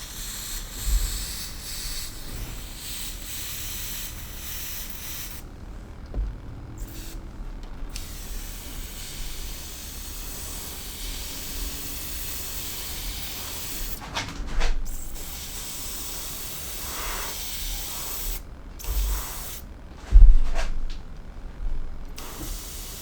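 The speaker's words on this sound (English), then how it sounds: "right now I'm running my airbrush at about 10 psi" Airbrush spraying paint onto a woodturned vase at about 10 psi, a steady close hiss that runs throughout, cutting out briefly a few times between bursts.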